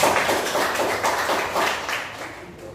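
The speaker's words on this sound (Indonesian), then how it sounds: "Tepuk tangan dulu untuk ini" A classroom of students claps together during a mathematics lesson, a brisk burst of many hands that starts strong and gradually thins and fades toward the end.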